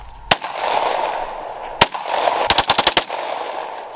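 Several 9mm pistol shots at an outdoor shooting session: one sharp crack, another a second and a half later, then a quick burst of five shots in rapid succession, each loud and close with a short echoing tail.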